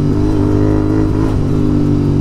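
Royal Enfield Continental GT650 fitted with a Red Rooster performance exhaust revving, a loud, close, throaty engine note with a dense low rumble, sustained and fluttering slightly, heard alone.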